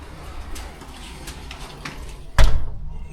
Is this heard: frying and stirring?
no